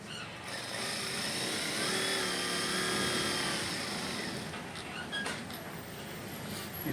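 A sewing machine stitching a shirt runs with a steady, close mechanical whir for several seconds, then fades and stops, with no talking over it.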